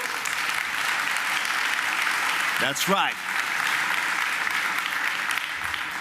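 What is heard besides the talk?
audience applause at expo main stage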